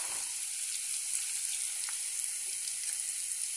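Curry leaves frying in hot oil, giving a bright, continuous sizzle close up with faint crackles scattered through it and no voices.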